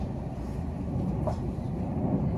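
A steady low roar of outdoor traffic, a dense continuous rumble of passing cars with a faint distant airplane engine hum over it, no voices.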